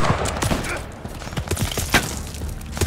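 Bursts of machine gun fire and dense gunshots sound in a Call of Duty Vanguard campaign battle, with sharp repeated reports and thuds, and shouted voices mixed in.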